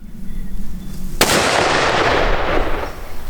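A rifle firing factory Hornady Superformance ammunition outdoors: one loud sharp crack after a quiet lead-in, followed by a long rolling echo that slowly fades.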